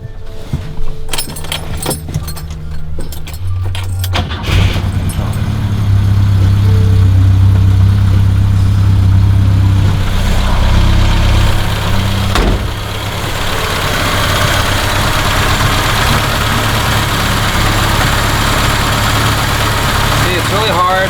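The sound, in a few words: BMW 2002 engine starting and idling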